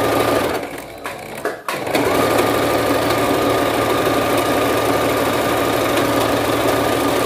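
A sewing machine stitches lastex elastic thread onto fabric, running as a steady, close, continuous whir after a brief pause near the start, with no talking.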